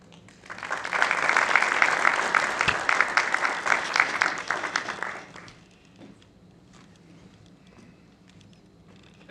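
Loud applause fills a retirement ceremony hall for several seconds, dense and steady, then drops off abruptly to quiet room tone with faint scattered sounds.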